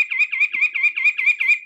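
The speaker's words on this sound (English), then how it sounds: "Here's that western white-breasted nuthatch song." A western white-breasted nuthatch sings a fast, steady run of about eight nasal, identical notes, loud and near with no other sounds.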